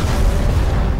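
A thrown bomb blows up in the co-op shooter Dead Space 3, a short, heavy, booming blast that fills the moment with low rumble.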